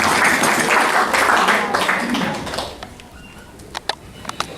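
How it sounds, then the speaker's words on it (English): A Rotary fellowship meeting audience in London bursts into dense applause that holds for a couple of seconds, then thins and fades to scattered claps and a few last taps. "big applause for David"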